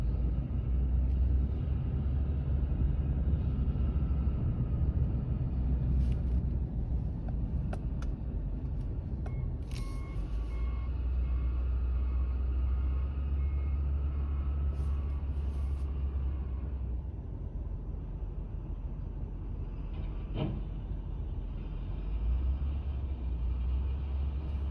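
A two-wheel-drive plow truck spins its wheels while pushing snow, a steady loud engine rumble and tire roar that holds for the whole stretch with a faint higher whine, no voices.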